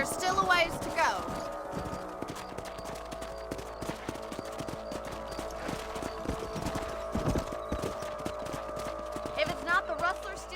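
Horse hooves clip-clop in a steady, close rhythm as a rider travels across a ranch in a video game, with a brief whinny or snort near the start.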